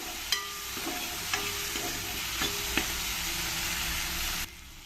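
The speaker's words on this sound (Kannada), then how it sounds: "ಸ್ವಲ್ಪ ಟೊಮೆಟೊ ಮೆತ್ತಗಾಗೋವರೆಗೂ ಇದನ್ನು ಒಂದು ಸ್ವಲ್ಪ ಫ್ರೈ ಮಾಡ್ಕೊಳ್ತೀನಿ" Chopped tomato fries in a pan for hyacinth bean sambar, a steady close sizzle with a few light stirring knocks before it cuts off abruptly.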